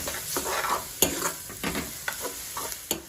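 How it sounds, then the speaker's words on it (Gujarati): Tomatoes are stirred into a hot, frying masala in a pan for Kathiyawadi green chana dal, with a spatula scraping in quick, irregular strokes over a soft, steady sizzle, close up and without talk. "હવે આપણે ટામેટા એડ કરી દઈશું, મિક્સ કરી દઈશું સરસ રીતે।"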